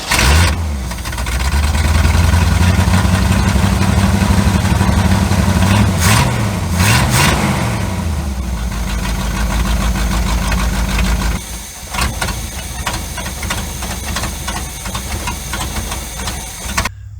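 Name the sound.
1972 C30 engine started and idling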